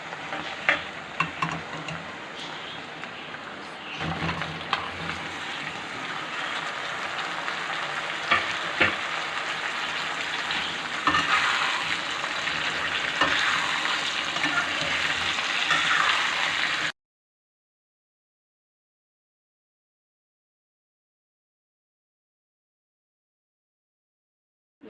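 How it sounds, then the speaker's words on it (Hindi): Ginger garlic paste fries with onions in a pan, a steady close sizzle with stirring scrapes throughout, continuing for about seventeen seconds before cutting to silence. "इसको इतना हमने पकाना है कि लहसुन अदरक की स्मेल ख़त्म हो जाए"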